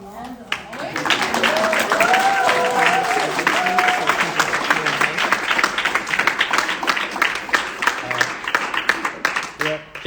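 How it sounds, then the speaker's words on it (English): An audience applauds after a poetry performance at the Syracuse University Art Museum. The clapping is loud and sustained, a crowd clapping steadily for about ten seconds with a few voices mixed in. "Can we have one last applause for all the"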